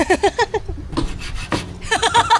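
A hand saw cuts during septic tank construction, giving a rhythmic series of slow, rasping push-and-pull strokes, close and fairly loud, with a short lull midway before the strokes resume.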